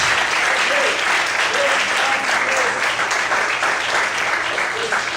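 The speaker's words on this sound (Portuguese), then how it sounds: "Desocupe a sua mão, aplaude o Senhor nessa noite" A church congregation claps together in sustained, dense applause that stays loud and steady throughout, with faint voices mixed in underneath.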